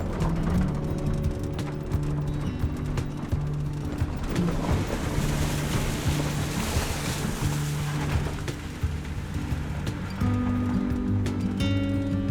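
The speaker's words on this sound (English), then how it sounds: "I'll have to drive through one little creek right here." A vehicle rolling through a small creek, a low steady engine rumble mixed with water churning and splashing, continuous and fairly close with no talking.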